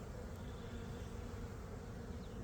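Honeybees buzz in an open hive during a swarm-prevention inspection, a dense, low, continuous drone close by, steady and unbroken with no voices.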